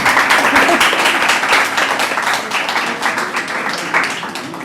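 Audience applause welcoming the honoured guest Mahesh Katare at a story-writing workshop, a dense, sustained clapping from a crowd that stays loud throughout and eases only slightly toward the end.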